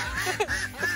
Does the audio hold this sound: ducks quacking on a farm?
yes